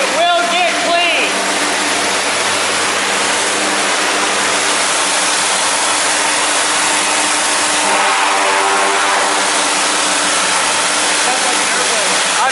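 A pressure washer sprays continuously as a ceiling and wall are cleaned, a loud steady hissing roar filling the whole stretch with no letup.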